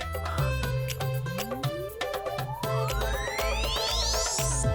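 A mobile phone rings with a steady, loud electronic melody of bright repeating tones and a rising sweep, playing alone for several seconds.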